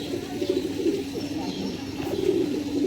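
A Punjabi Malbai pigeon coos softly at close range in a short run of low, repeated throaty calls.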